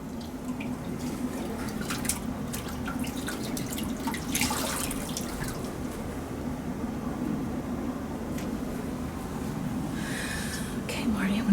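Water trickles and drips steadily as a patient's face is washed during a partial bed bath, a continuous wet splashing close by under a low background hum and quiet talk.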